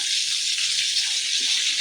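Water is poured around a banana leaf wrapped parotta in a hot pan, producing a continuous hissing, rushing pour that stays loud and even throughout, with no talking.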